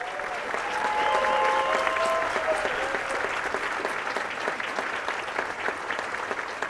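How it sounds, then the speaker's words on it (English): Sustained audience applause fills a university investiture ceremony for a new president, dense steady clapping throughout with a few faint voices and tones underneath. "Another round of applause, ladies and gentlemen."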